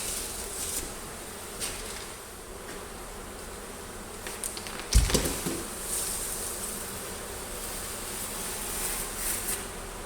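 Honey bees hum continuously around a hive cutout removal inside a house, a steady dense buzz with a few individual bees passing close, plus a brief handling knock midway.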